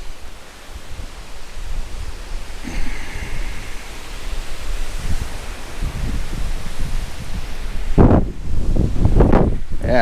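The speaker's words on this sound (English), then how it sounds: "this wind is insane" Strong outdoor wind roars in a constant broadband rush, buffeting the microphone hard, with heavy low gusts surging near the end.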